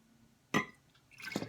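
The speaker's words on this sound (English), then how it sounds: "I try to just generally pour off the top of the cream here." Cream from fresh skim milk on a farm is poured off into a jar, giving a sudden splashy glug followed after a pause by a wetter, trickling pour, close and moderately loud.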